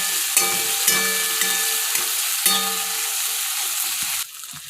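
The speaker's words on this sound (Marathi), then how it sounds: "आता यात हिरव्या मिरच्या टाका आणि त्याही परतून घ्या चांगल्या" Green chillies sauté in hot oil in a pan, producing a loud, steady sizzle broken by a few sharp clinks of a spoon. The frying drops off abruptly near the end.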